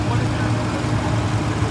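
A Ford Mustang Foxbody idling while warming up, a steady low rumble heard close and continuous through the short stretch, with voices talking over it.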